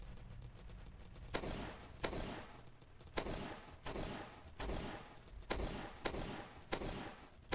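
Rapid gunfire in a Roblox zombie game: sharp, loud shots cracking out at a fairly regular pace, roughly one every second, over a low background rumble.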